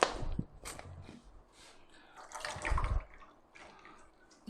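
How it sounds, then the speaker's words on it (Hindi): Water poured into a glass of raw mango drink, a brief splashing pour swelling near the end then trailing into faint drips, close and moderately loud with no talk. "पानी भी शामिल किया"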